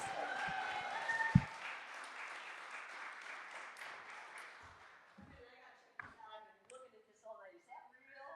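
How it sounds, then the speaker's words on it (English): Applause from a sober open mic night audience greeting a woman performer, a steady wash of clapping fading under her voice as she begins talking. "Give her a round of applause"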